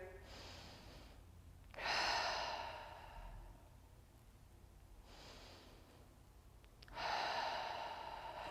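Deep, slow breathing during a yoga squat, with two long, audible breaths a few seconds apart, each a soft rushing inhale and exhale, close and quiet.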